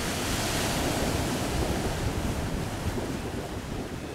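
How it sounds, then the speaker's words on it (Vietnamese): Sea waves surge and churn around a fishing boat off Vietnam's coast in stormy weather, with strong wind buffeting the microphone in a steady, loud, close roar with no voices. "Sóng nó cứ nhấp nhô như thế này thì rất là khó chịu nha."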